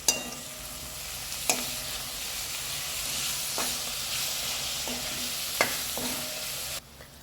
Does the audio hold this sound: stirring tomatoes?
yes